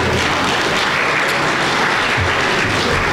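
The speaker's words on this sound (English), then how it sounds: "Give him a round of applause." Sustained, steady applause from an audience at a community banquet night in Clearwater, with dense clapping filling the whole stretch and no talk over it.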